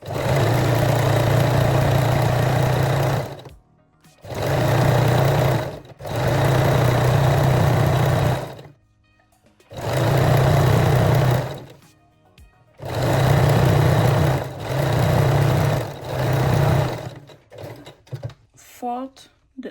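Sewing machine stitching fold-over elastic along the top edge of lingerie panties, running in six loud steady bursts of a few seconds each, separated by brief pauses, with a small rustle at the end.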